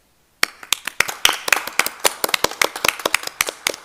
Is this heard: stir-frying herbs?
no